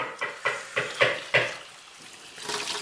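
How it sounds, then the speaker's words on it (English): Water splashes as a bowl is rinsed out while cleaning waste water, several short swishing bursts in quick succession, close and fairly clear, with no talking. "I'm going to rinse this out"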